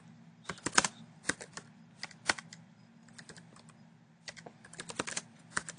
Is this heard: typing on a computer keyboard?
yes